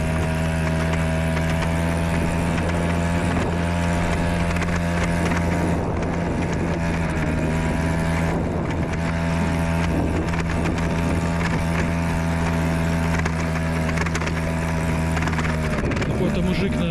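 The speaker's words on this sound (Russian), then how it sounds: "Какой-то мужик на мотоцикле проехал." A steady engine drone runs throughout, a motorcycle rumbling past with no clear rise and fall, continuous and fairly loud.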